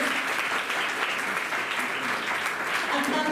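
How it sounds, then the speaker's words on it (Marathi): Sustained applause from an audience at a Marathi language pride ceremony and book launch held by a college, a steady dense clatter of many hands filling the room throughout. "याच्यासाठी एकदा जोरदार टाळ्या झाल्या पाहिजे"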